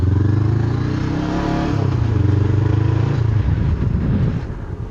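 A Honda CBR500R motorcycle with a GP Corsa exhaust, baffle fitted, revs and idles nearby, its exhaust rumbling loudly, then dropping into a choppy, uneven burble near the end.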